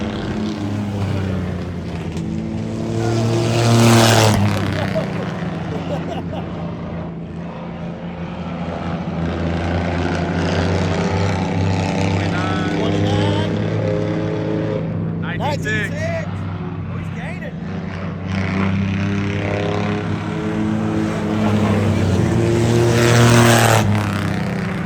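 A Ranger side-by-side engine runs steadily through its racing pass at the Freedom Factory, a continuous loud drone with harmonic tones that swells at the start and end, and people talk over it.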